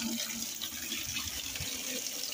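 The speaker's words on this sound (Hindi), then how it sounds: "आ गया पानी" Water runs from a tap for washing pots and a cart, a continuous splashing hiss with some gurgling and uneven low thumps, close by and fairly quiet, with no speech.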